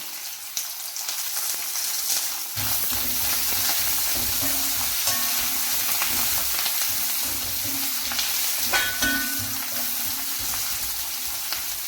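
Onions and spices fry for a Kerala-style chicken curry. A steady, dense sizzle starts after a quiet opening, with scraping and stirring throughout. No voices.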